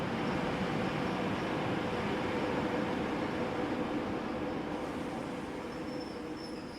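Steady broadband rumble of a freight train of tanker cars carrying crude oil rolling along the tracks on the Silk Road route toward Samarkand, a continuous loud roar with faint squeals near the end, no voices.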